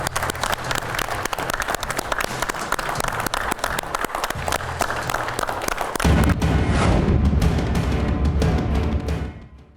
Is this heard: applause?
yes